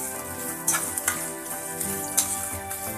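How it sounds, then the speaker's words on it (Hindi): Chopped onion sautéing in oil in a pan for masala bhindi, a steady close sizzle with a few soft stirring clicks and no talk. "एक दो मिनट तक हमारे को इसको ऑयल में सौते करना है"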